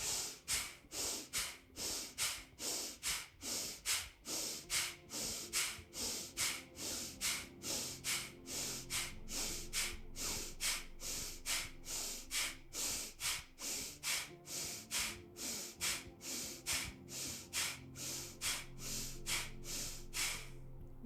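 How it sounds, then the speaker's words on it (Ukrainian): Bhastrika bellows breathing during a yoga pranayama session: a long run of sharp, forceful nasal inhales and exhales in a fast, steady rhythm, close and clear, with no talking. "робимо в комфортному ритмі, щоб ви спостерігали за інтенсивним вдихом і за інтенсивним видихом"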